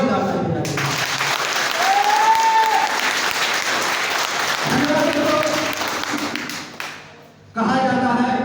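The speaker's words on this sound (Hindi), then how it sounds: "एक बार जोरदार ताली बजाइए।" An audience gives a round of applause at a Hindi-language talk, a broad wash of clapping under a moving tone, with a speaking voice at the start and cutting back in at the end.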